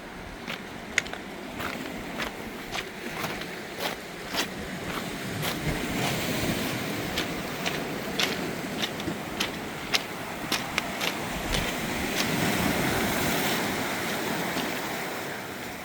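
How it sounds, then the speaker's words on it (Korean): Waves wash onto a natural beach along the Yeongdeok Blue Road in Korea in a broad, rolling surge, with scattered crisp clicks and splashes over the constant roar. "파도 소리가 너무 좋았습니다."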